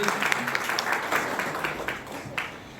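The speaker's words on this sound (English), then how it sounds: "a round of applause for the lady" Applause from a lecture audience for a woman who answered a question, moderately loud and fairly steady across the moment, with faint talk mixed in.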